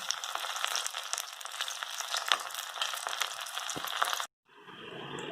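Potato rava rolls frying in hot oil in a pan make a steady, dense crackling sizzle that suddenly cuts off near the end and then resumes more quietly.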